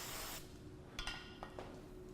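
Hairspray misted onto hair during an Indian bridal updo, a soft continuous aerosol hiss near the mic that fades, followed by a few faint light taps and rustles.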